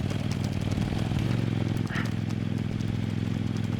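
A 2025 Kove 800X Pro motorcycle climbing straight up square-edged rocks: a close, continuous engine drone with a rough, pulsing tone and a little clatter, holding steady throughout.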